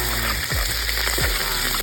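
Garlic, onion and tomato sauté loudly in hot oil in a pan, a steady close sizzle with a few scraping strokes, no voices.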